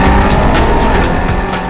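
A Mercedes-Benz SLS AMG with its 6.3 L V8 revving hard under acceleration, a dense continuous engine roar with a regular pulse of brief surges as gears shift quickly, loud and close.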